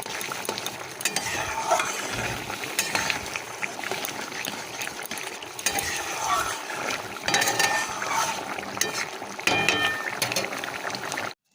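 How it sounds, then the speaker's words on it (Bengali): Paratha flatbread frying in a little oil in a pan gives a steady sizzle and crackle throughout, with occasional scraping and stirring sounds close by. "এ দেখো একদম অল্প তেলে দোকানের মতন হচ্ছে নরম নরম পরোটা করেছি"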